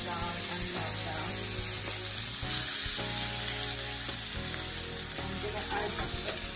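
Frozen spinach sizzles steadily in a pan of olive oil and butter, a loud, continuous crackling hiss close up with faint background tones and no talking.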